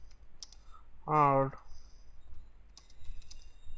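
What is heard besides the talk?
typing on a computer keyboard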